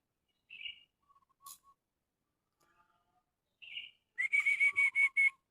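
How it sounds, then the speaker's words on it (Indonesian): Wild birds singing on the village slope of Mount Lawu, with two short whistled notes, then a quick run of six bright repeated chirps near the end, clear and fairly close against near silence. "Burung ngetilang."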